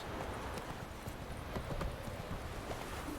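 Horse hooves clip-clop steadily in Witcher 3, a quick even patter of in-game footfalls at moderate, constant loudness over a soft ambient bed, with no voices.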